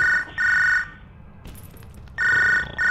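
A telephone rings in the Wrestling Empire video game, two loud electronic double-trill bursts separated by a short quiet gap, alone without talk.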